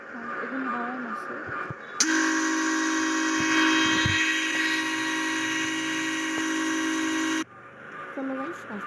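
Horn of a train sounded from inside the locomotive cab, one long loud sustained blast of about five seconds, with talking before and after it.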